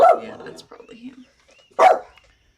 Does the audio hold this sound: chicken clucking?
no